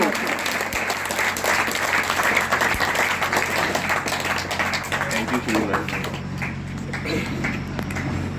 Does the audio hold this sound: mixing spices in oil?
no